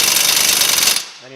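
Impact gun hammering on a bolt while a motor is pulled, one loud burst of rapid rattling impacts up close that stops abruptly, leaving a brief low hum.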